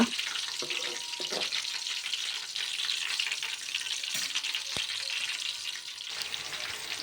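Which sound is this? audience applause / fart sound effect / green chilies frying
green chilies frying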